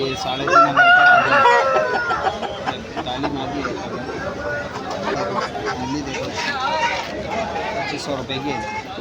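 Roosters and fighting cocks crow and cluck amid a busy Sunday poultry market at Erragadda, with ducks and country fowl nearby; crowing rises near the start over steady crowd chatter and people talking throughout.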